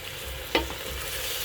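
Onions and whole black peppercorns frying in hot oil in a pan for chicken soup, giving a steady low sizzle with one brief sharp crackle as the ingredients go in.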